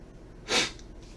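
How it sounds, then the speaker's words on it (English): A single short, sharp sniff through the nose, close and fairly loud against a quiet background. "Defiant sniff"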